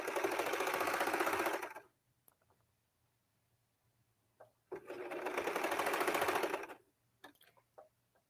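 A sewing machine stitches short pieces of fabric in two bursts of rapid, buzzing needle strokes, each under two seconds, separated by quiet pauses with faint handling clicks.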